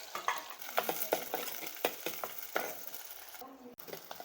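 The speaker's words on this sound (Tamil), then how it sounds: "சின்ன வெங்காயம் எவ்வளவோ அரிஞ்சு வச்சுருக்கேன் சும்மா ரெண்டு ரெண்டாக அதை போட்டுக்கலாம்" Small onions and chillies fry in a pan for a prawn curry, with a soft crackling sizzle and intermittent scraping stirs, fairly faint and close.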